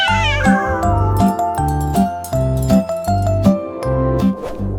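A cat meowing repeatedly over a bouncy children's nursery-rhyme tune, the mews loud and close, riding on top of rhythmic music.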